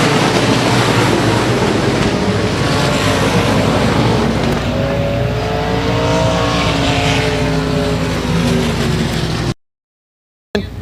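Limited modified race cars roar down a track at a night race program, a loud, dense engine drone with rising and falling revs as the pack passes, the sound cutting out abruptly near the end.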